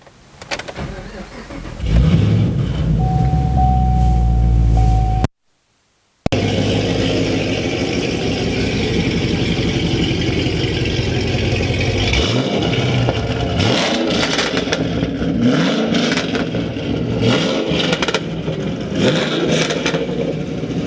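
A 2012 Chevrolet Camaro ZL1 engine starts and idles with a deep rumble, then revs repeatedly in loud, throaty bursts, close by.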